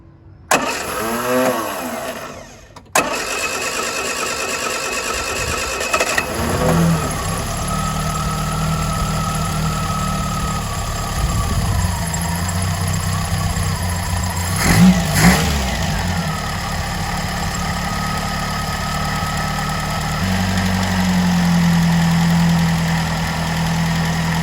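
A Mk1 Ford Fiesta 1.1L carburettor engine cranks briefly, fires and catches, then settles into a steady, close mid-pitched idle with a few small blips of revs, running alone without talk.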